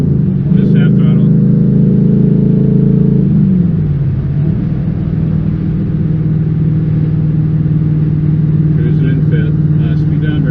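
A 1996 LT1 V8 fitted with TorqHeads runs at half throttle, a loud steady drone that shifts pitch downward partway through and then holds a constant rumble, with faint clicks near the end.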